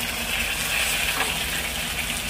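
Onions and tomato frying in a pan for a village-style fried fish soup, giving a steady, loud, continuous sizzle with no break from start to end.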